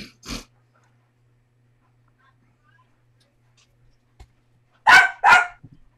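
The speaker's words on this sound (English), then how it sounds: "That's my dog barking." A dog barks indoors at home, one sharp bark near the start, then a long quiet stretch before two quick, loud barks close together near the end.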